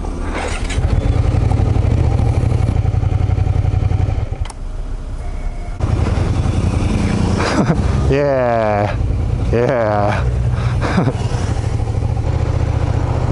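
Engines of several motorcycles idle and rev nearby in stop-and-go traffic in Fukushima, Japan, with people talking and cheering over the steady rumble.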